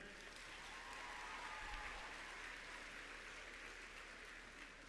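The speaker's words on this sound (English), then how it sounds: "big round of applause for everybody who's performing tonight" Crowd applause for performers at the BC Winter Games opening ceremony in Quesnel, a broad, dense wash of clapping across a large venue, steady and sustained with no speech over it.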